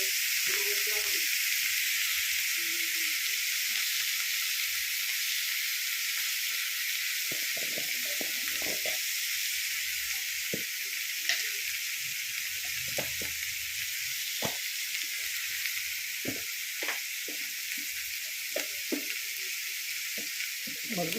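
Onions and spices for a spinach sambar sauté in a hot pan, giving a steady, loud sizzle throughout with occasional soft stirring scrapes and no talking.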